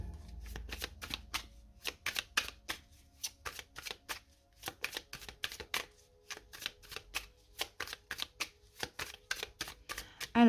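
Oracle cards are shuffled and laid down in rapid, crisp riffling flicks and soft slaps, close up and fairly quiet, coming in irregular bursts throughout with no talking.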